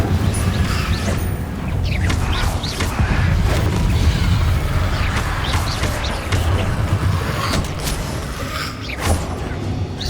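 Fire spell cast repeatedly in Hogwarts Legacy during combat, with booming, crackling bursts and mechanical clatter over a dense, loud background of battle effects, several sharp hits spread through the stretch.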